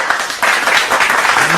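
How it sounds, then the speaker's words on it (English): An audience bursts into applause and hand clapping at a live talk show taping, a dense, loud burst that carries steadily to the end. "Give me a hand clap for that."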